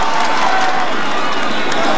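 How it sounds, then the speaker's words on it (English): Roadside crowd at a 2012 Tour de France stage cheering and shouting as a rider arrives, a loud, dense, continuous roar of voices and applause. "Now he comes home to the cheers of the crowd."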